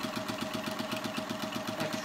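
A sewing machine stitches quilt patches with a fast, even mechanical chatter and a steady hum, running continuously and close up with no voices.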